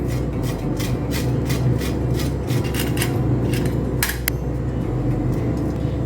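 Citrus peel being grated for zest for a plum cake: steady, close rasping strokes scraping back and forth in a quick rhythm, with no talk.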